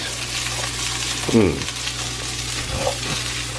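Onions sautéing in a pan give a steady close sizzle, with a couple of brief scraping clinks from stirring, and no one speaking.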